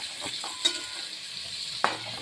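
Brinjal and spice frying in plenty of oil in a kadai, a steady close sizzle with a couple of sharp stirring scrapes, no voices.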